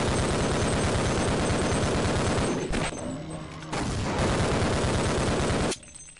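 Video-game gunfire from Half-Life: Opposing Force: loud, dense bursts of rapid shots rattle continuously, break off briefly twice, then resume before cutting out near the end.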